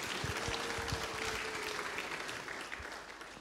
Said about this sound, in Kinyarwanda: Dukomere Imana amashyi menshi cyane.